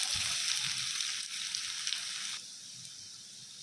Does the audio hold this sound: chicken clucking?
no